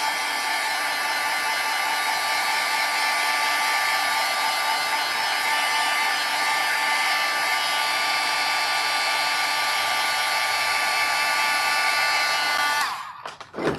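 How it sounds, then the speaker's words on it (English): Close and loud, a hair dryer blows continuously to dry paint on a gel print, a steady whirring rush that cuts off abruptly near the end. "So I'm going to dry it, make sure it's super dry before I put anything else on top."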